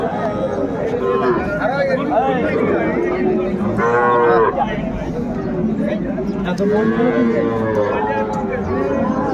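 Bull calves and cattle at a crowded village livestock market in Dinajpur, mooing loudly and repeatedly up close amid a constant babble of people talking and bargaining nearby.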